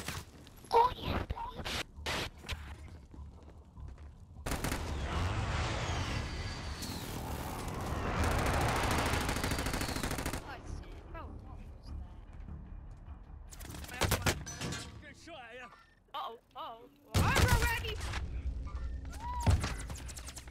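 Gunfire bursts from a Call of Duty Warzone match, with rapid automatic fire and scattered shots in uneven clusters, loud and close, mixed with players talking and shouting over it.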